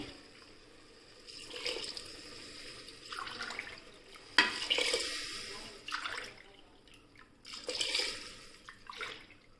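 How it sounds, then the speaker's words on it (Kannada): Water poured from a cup into two cups of rice in a pot for vegetable bread pulao, several separate splashing pours with short pauses between, close and moderately loud, no talking. "ಈಗ 5 ಕಪ್ ನೀರು ಹಾಕ್ತಾ ಇದ್ದೇನೆ."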